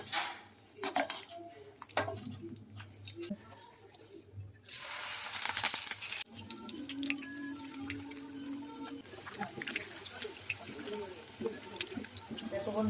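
Whole coriander leaves dipped in batter are frying in hot oil as fritters. Faint clinks and watery noises come first, then a loud burst of sizzling, then steady quieter bubbling with occasional utensil taps.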